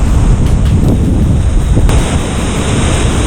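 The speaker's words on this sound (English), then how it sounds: "The way these waves are breaking along," Ocean waves breaking along a shallow shore where people fish for striped bass, heard as a loud, continuous rushing wash with wind buffeting the microphone and no voices.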